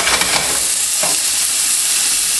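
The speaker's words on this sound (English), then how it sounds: "You saute the onions until they are soft." Onions sautéing in a pan, heard as a loud, close, continuous sizzle with a few soft stirring scrapes near the start, no voices over it.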